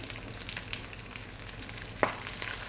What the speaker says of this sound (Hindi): इस तरीके से हम इसमें टमाटर रखते जाएंगे।